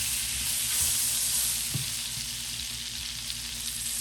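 Brown butter sizzles in a frying pan ready for salmon, a steady bright hissing fry with faint bubbling and a brief low knock midway, continuous and fairly close; no talking.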